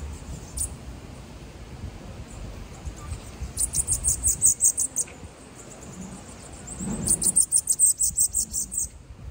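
A bananaquit sings outdoors in two bursts of rapid, high-pitched, thin trilling chirps, fairly close, over a soft background hiss.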